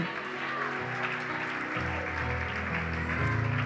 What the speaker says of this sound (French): Applaudissons le Seigneur Jésus ce matin.